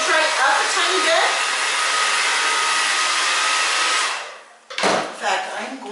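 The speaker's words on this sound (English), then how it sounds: "Now I'm just going to blow dry this." A hair dryer blows loudly and steadily at close range while a short A-line haircut is dried, its rushing roar cutting off near the end as it is switched off, then a few brief rustles and handling sounds follow.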